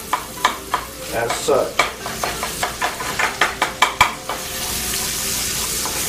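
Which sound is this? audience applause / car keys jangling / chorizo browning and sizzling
chorizo browning and sizzling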